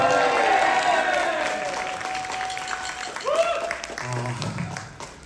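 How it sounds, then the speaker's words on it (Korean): A concert audience at a metal show in an arts hall applauds a rock band, a broad wash of clapping and cheers that swells at first and then fades, with a voice speaking over the tail. "박수 한번 주세요"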